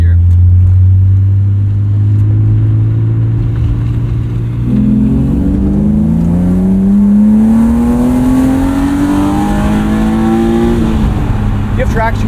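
A 1998 BMW M3 E36 with 250,000 miles revs up from a low idle-like drone, its engine note climbing steadily as the throttle opens, loud and close from inside the car.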